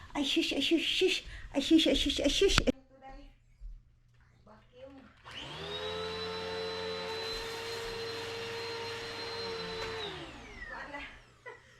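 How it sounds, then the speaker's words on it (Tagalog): Household vacuum cleaner starting up and running with a loud, steady whine for several seconds before winding down, after a stretch of talking. "Natakot sa vacuum."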